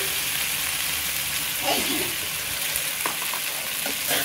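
Taro pieces frying and being stirred in an oil-filled pan for a Bengali hilsa fish curry, giving a steady broadband sizzle with a few scraping stirs partway through, close and without any talk.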